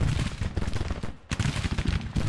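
Artillery fire in the Civil War strategy video game Grand Tactician, a rapid cluster of loud booming cannon blasts and crackling volleys, close and dense, with a brief lull before another burst.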